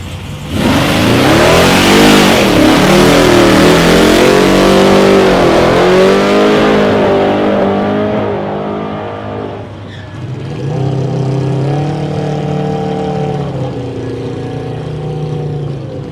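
A classic Holden HG car revs hard during a burnout, its engine roaring loud and close with rising and falling pitch, then easing to a steadier, lower drone near the end.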